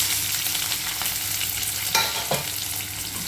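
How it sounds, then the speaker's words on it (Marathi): Onion frying in oil with cumin and mustard seeds, a steady dense sizzle and crackle, close and fairly loud, with a couple of brief utensil scrapes near the end. "कांदा चांगला फ्राय होऊन द्यायचा"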